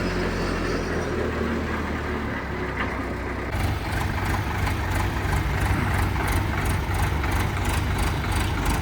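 An Indofarm 3055 tractor engine runs steadily at 1400 rpm, a smooth, continuous low diesel drone heard close up with no one talking.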